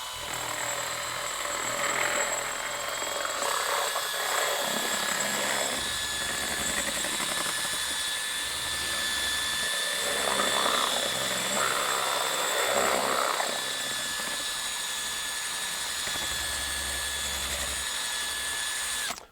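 A power drill mixing Alumilite resin whirs steadily for a long stretch, its pitch dipping and rising as it churns through the thick resin, fairly close.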